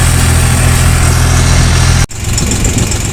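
The diesel engine of a Yuto 244SX tractor runs loud and close with a steady low throbbing rumble, briefly cutting out with a sharp drop before the running resumes.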